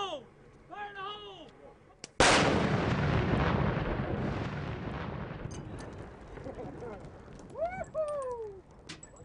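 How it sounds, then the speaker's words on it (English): A controlled explosive blast goes off during infantry operations in Iraq around 2004–2005: one sudden loud boom followed by a long rumbling decay, with birds chirping before and after. "Fire in the hole! Fire in the hole!"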